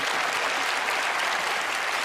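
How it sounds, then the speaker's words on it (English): A studio audience claps steadily at a magic show, dense even applause filling the whole moment without a break. "Give her a round of applause."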